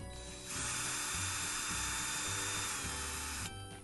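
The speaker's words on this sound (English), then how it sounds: "I'm going to take a drill and I'm going to pull this out." A power drill spins out a screw from the front cap trim of an RV, one steady high whine that lasts about three seconds and sits close and loud.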